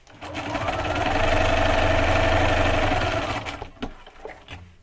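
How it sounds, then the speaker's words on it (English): A sewing machine stitches white and purple quilt block pieces together, running in one steady, close, humming whir for about three seconds before stopping, followed by a few small handling clicks. "we're going to finish out that line by sewing the other white one on the other side of this purple one"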